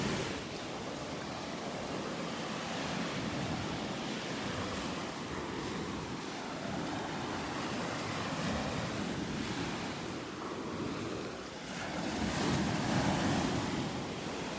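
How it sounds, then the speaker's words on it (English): Ocean waves pound the shore on a North Naples, Florida beach, a continuous roar of surf with swells building and breaking, mixed with wind buffeting the microphone and no voices. "Still some pretty good waves pounding the shore here"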